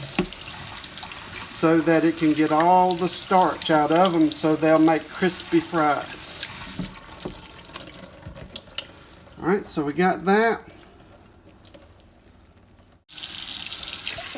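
Water from a kitchen tap runs into a sink while cut potatoes are rinsed, a steady hiss under a person talking continuously, with a few splashy bursts and a pause before the flow resumes.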